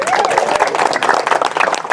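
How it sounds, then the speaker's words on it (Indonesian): Crowd clapping at an Indonesian political gathering, a short burst of applause mixed with voices talking and calling out over it. "Tepuk tangan dulu."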